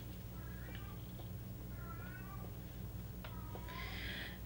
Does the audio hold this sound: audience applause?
no